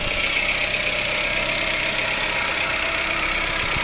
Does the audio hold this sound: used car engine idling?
yes